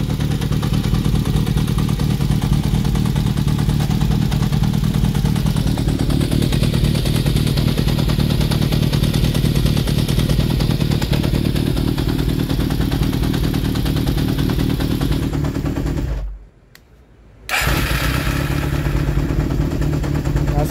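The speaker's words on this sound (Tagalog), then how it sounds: "Ingay ng makina." A Yamaha XJR400 motorcycle engine with a dipping-idle fault runs close and loud, idling with clattery mechanical noise and brief revs, then cuts out for about a second before resuming.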